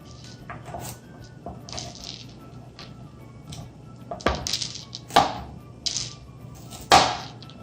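A kitchen knife slices through food on a cutting board at a youth cooking camp, a run of separate close cuts and taps that grow louder toward the end, with no talking.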